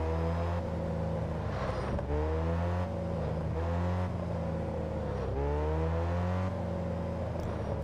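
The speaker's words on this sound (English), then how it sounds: "Ferraris just sound really nice in this game" Ferrari engine in the Test Drive Unlimited 2 racing game revving loudly and steadily, its pitch climbing and dropping through repeated gear changes over several seconds with no talk.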